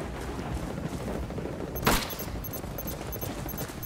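Video game gunfire in a Ghost Recon Wildlands 4v4 PvP match, a continuous rattle of shots with one sharper crack standing out near the middle, steady and fairly loud.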